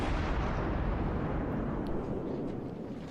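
Cruiser deck guns fire in World of Warships on the Two Brothers map, a dense continuous roar of naval artillery at close range with no pauses.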